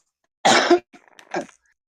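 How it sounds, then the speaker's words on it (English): A single harsh cough followed by a softer throat-clearing rasp, close and brief, surrounded by silence. "pardon me for the coughing."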